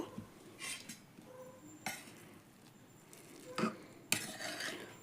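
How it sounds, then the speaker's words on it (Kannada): A spoon scrapes and clinks in a pot of freshly pressure-cooked red chilli powder masala bath as it is mixed. The stirring gives soft, close, irregular scrapes and a few sharper knocks against the vessel, with no talking. "ಇದನ್ನು ಎಲ್ಲ ಮಿಕ್ಸ್ ಮಾಡ್ತೇನೆ ರೀ ಈಗ"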